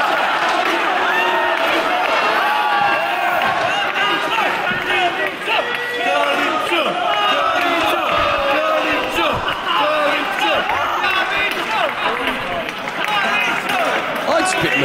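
A wrestling crowd roars for Carlito at an international singles match, loud sustained cheering and shouting with a commentator talking over it throughout.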